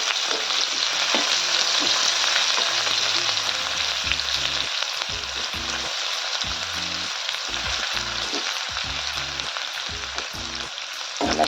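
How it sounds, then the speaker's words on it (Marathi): Chopped onion and garlic paste fry in a hot pan for a radish-pod vegetable dish, giving a steady, loud, close sizzle with intermittent low scraping thumps from stirring. "यात टाकूया आपण चिरलेला कांदा लसूण पेस्ट त्याला आपण छान किटून घेतलंय"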